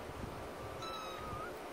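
A newly adopted three-legged kitten, still nursing, gives one soft, drawn-out meow midway through, faint against a steady background hiss.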